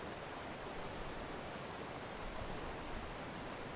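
Flowing water in the fishing game Hooked, a steady broadband wash that holds at an even level throughout, faint and continuous with no voices over it.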